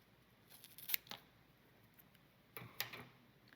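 Scissors snip through a Tradescantia (inch plant) stem, two quiet crisp cuts about two seconds apart, close by in a hushed room.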